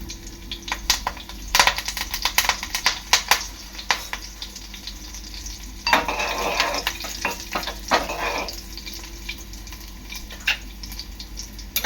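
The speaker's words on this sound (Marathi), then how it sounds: "तेल चांगलं गरम झालेलं आहे आता मी टाकणार आहे लसूण कढीपत्ता" Garlic and curry leaves drop into hot oil for chicken kheema stuffed chillies. A close, crackling sizzle comes with sharp spattering pops and clinks, and a louder burst of frying swells for a couple of seconds near the middle.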